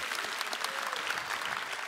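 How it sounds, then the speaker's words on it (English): Men in a church congregation applaud together, dense continuous clapping at close range with no voices over it. "Come on, men. Clap it up"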